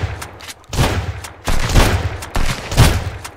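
Shotgun blasts in the survival video game Sunkenland, four loud booming shots spaced roughly a second apart, each with a short ringing tail, close and clear with no talking.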